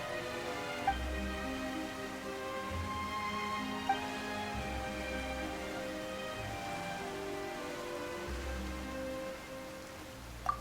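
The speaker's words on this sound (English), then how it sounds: "Why is it raining all of a sudden?" Steady rain falling on surfaces in the video game Genshin Impact, a continuous hiss beneath layered musical score, with a few faint clicks and no talking.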